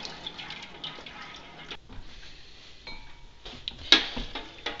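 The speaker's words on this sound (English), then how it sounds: "And then we stir." Grated Fels-Naptha laundry soap is stirred into water in a pot, making faint scraping and clinking sounds against the pot, with one brighter metallic tap near the end and no talk.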